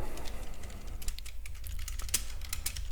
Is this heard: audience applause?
no